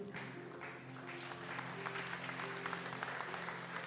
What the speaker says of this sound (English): Big applause to Networking Premium.